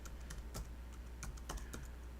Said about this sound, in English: I should type